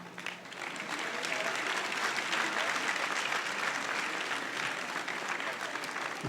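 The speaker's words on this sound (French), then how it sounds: "et applaudissez vos parents" Sustained applause from children at a Dakar school excellence awards ceremony, clapping their parents, dense and steady throughout, no voices on top.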